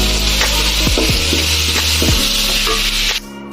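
Spices added to frying fish masala with chopped onion, a loud close sizzle and crackle with a few scraping stirs, cutting off abruptly at the end.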